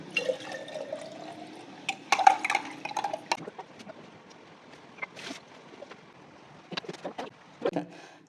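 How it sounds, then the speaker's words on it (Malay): Water is poured into slaked lime in a container while making kuih kaswi, a thin trickling stream with splashes and light clinks of utensils, close and fairly quiet, with no speech. "Masukkan air."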